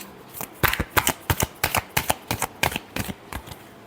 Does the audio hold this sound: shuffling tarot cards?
yes